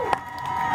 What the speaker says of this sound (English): Let's put a round of applause for our South Oak Cliff football team.